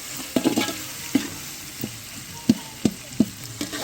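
Tomatoes and onions with salt sauté in a pan for chicken biryani. A low sizzle runs under roughly eight sharp spatula clacks and scrapes, spaced irregularly and heard close up.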